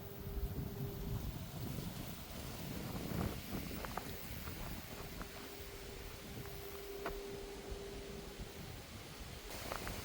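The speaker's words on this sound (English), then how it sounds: "it's a little bit windy today." Steady wind buffets the microphone with a constant low rush, some faint tapping and rustling mixed in, no one speaking.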